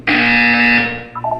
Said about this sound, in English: You will hear a buzzer.